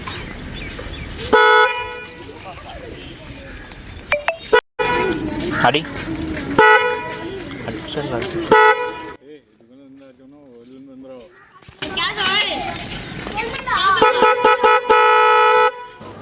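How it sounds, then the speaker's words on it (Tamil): A Windtone 12V aftermarket vehicle horn under test gives loud, blaring honks in long sustained blasts with short gaps, close by, while someone talks over and between them. "ஒரு கார் ஆரன் எப்படி சவுண்டு இருக்குமோ அதேமாரி ஒரு ஃபீல் கிடைக்கிது."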